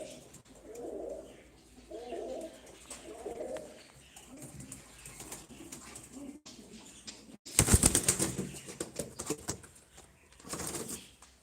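Fancy and tumbler pigeons coo in a steady run of soft low calls, then a loud burst of wing flapping breaks out near the end, followed by a shorter flutter.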